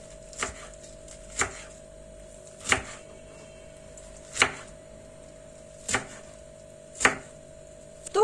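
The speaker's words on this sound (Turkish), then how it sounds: "Şimdi şöyle kesme tahtasına koyuyorum. Gelişi güzel doğruyorum." A knife chops purslane on a cutting board in slow, evenly spaced strokes, six or seven sharp close taps against a steady low hum.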